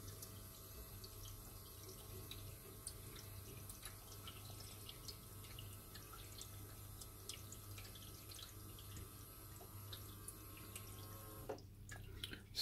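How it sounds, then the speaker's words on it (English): Water running and trickling steadily as it refills a reef aquarium sump after the return pump is shut off, with a constant low hum and scattered drips throughout, ending in a brief muffled pause. "Water level is rising again."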